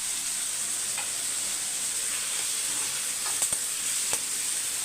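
Sliced onions sauté in a hot pan, giving a dense, even sizzle throughout, close up and fairly loud, with a few sharp spatula scrapes and taps near the end.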